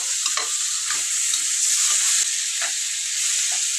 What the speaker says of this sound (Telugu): ఇట్లా ఉప్పు కారం బాగా పట్టేలాగా అయితే చికెన్కి కలుపుకుందాము.